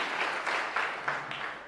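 Short burst of conference audience clapping, light and scattered, rising and fading in a few soft waves over under two seconds with no voices on top.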